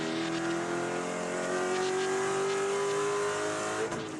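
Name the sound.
Spec Corvette race cars on final lap at Daytona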